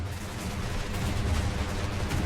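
Cannon fire pounds a castle in the airship battle game Airships: Conquer the Skies, a dense, unbroken barrage of booming shots with no pauses.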